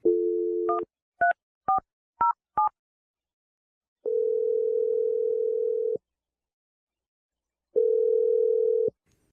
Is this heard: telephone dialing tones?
yes